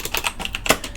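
Rapid typing on a computer keyboard, close and fairly loud, with a steady run of sharp key clicks and no voices.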